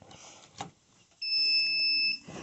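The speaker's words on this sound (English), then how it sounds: "You will hear a beep" A single sustained electronic beep from an egg incubator powering on, clear and close, sounds for about a second after a couple of soft handling clicks.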